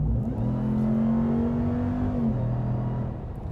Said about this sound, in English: a supercharger whine